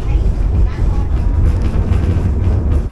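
Riding a tram through Bremen brings a steady, loud low rumble of the moving car with rattling and rolling noise, continuous for a few seconds before cutting off abruptly at the end.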